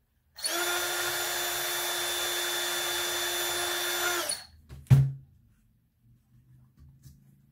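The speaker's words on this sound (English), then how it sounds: "And you need to drill this" A power drill bores into plywood with a steady high whine lasting about four seconds, then winds down, followed by a sharp knock and faint handling noises nearby.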